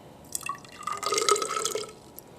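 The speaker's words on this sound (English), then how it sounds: "We are going to add 3 different amounts of water and determine the mass." Water is poured into a graduated cylinder on a lab balance, a short trickling, dripping fill that rises and fades over about two seconds, faint and close with no talk.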